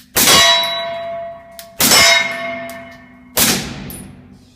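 Subsonic rounds from a suppressed SIG P226 strike a steel target plate three times at a measured pace, each impact a loud, bright metallic clang that rings on and decays before the next.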